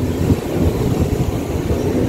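The 38056 Haldia–Howrah local train rumbles into Rajgoda station, its steady low rolling noise and soft wheel clatter filling the short stretch with no voices.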